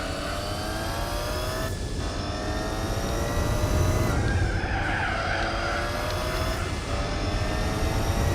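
Race car tires skidding through drifts in Gran Turismo 4, a loud continuous screech over a steady high-revving engine drone whose pitch sweeps and shifts with each slide.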